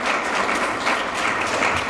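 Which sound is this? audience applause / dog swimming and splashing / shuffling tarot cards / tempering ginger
audience applause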